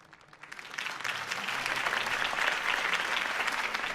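A crowd in a Batman video game breaks into applause that swells from a few claps to dense, sustained clapping, steady and moderately loud for several seconds.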